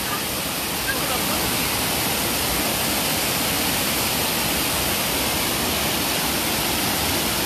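The Dame-Marie river rushing in flood, a loud, dense and unbroken roar of churning water that stays constant throughout with no clear voices on top.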